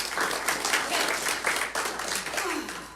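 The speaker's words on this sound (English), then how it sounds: "let's just give a little round of applause for everyone" A church congregation applauds during a Sunday celebration service, a steady wash of many hands clapping that fills the whole stretch at even loudness, with no pauses.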